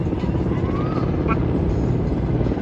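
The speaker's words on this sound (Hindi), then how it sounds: "ये पेट्रोलिंग कर रहा है हेलीकॉप्टर" Patrol helicopter flying overhead during an Independence Day kite-flying outing, a loud continuous rotor drone throughout with faint brief chirps above it, and someone talking over it.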